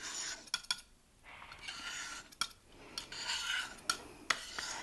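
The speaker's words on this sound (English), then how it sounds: "So this is my palette knife again, scraping it in." A palette knife scrapes handmade watercolor paint across a palette, making repeated close raspy strokes broken by short pauses and a few sharp taps. There is no talking.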